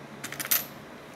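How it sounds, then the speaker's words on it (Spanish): Coins placed and dropped one after another in a recycled coin-and-electrical-wire craft project, giving a few light, close metallic clinks over about half a second, then quiet. "Y así van alternando las monedas"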